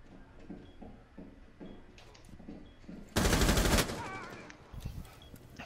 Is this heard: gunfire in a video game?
yes